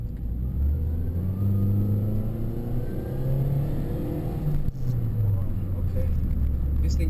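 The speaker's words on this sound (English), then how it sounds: "let's see how the performance of the supercharger goes" A supercharged 2006 Mini Cooper S pulls hard from inside the cabin, its engine note rising steadily through the revs over a constant road rumble, with a brief dip at a gear change before climbing again.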